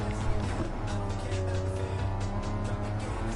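Ferrari engine in a racing video game, a steady low growl with strong harmonic drone that holds at high revs under brief tire noise, while a person talks over it.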